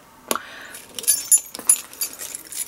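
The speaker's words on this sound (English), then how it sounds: "so here are my keys, right? House keys." A ring of house keys on an Oilers hockey lanyard jangles close by. Several bright metallic clinks and shakes come in bursts over a quiet background.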